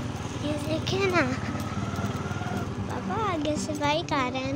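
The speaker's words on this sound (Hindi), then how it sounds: "आगे से बाइक आ रहा है ना।" A motorcycle coming from ahead along a road in thick fog in Rawalpindi, its engine running steadily throughout, with overlapping chatter from people nearby.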